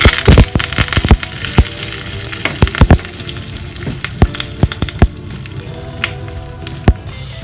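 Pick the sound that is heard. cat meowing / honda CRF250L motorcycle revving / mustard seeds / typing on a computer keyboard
mustard seeds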